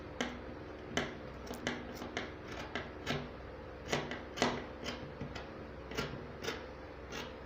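Scissors cut a round neckline out of fabric for sewing an iro and buba, making a series of crisp, close snips at irregular intervals, with no talking.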